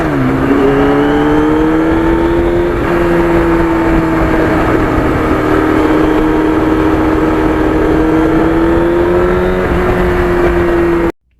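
A restored Yamaha FZR 1000 motorcycle engine revs loud and close, its tone rising and falling through sustained throttle blips for about eleven seconds before cutting off abruptly.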